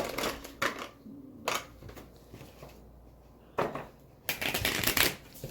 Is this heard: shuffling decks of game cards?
yes